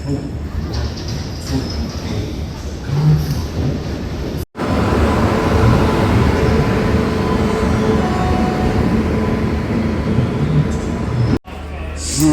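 A train in India arrives at a platform, rumbling steadily close by with rattling, broadband noise, a voice speaking briefly, then two sharp cuts in the sound.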